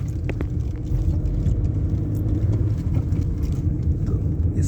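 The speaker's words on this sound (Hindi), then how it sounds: "इक्का दुक्का गाड़ी क्रॉस करती है।" A lone vehicle on a night road through a hillside elephant corridor above a river, heard as a steady, low, distant rumble that carries through the whole stretch with no voices.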